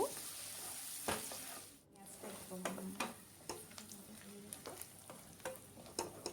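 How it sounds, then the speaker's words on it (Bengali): Onions frying in oil for a shahi mutton rezala sizzle steadily in a pan, broken by repeated scraping and stirring clicks close by. "দিয়ে দিব পরিমাণ মতো পেঁয়াজ খুব ভালো করে পেঁয়াজটাকে ভেজে নেব"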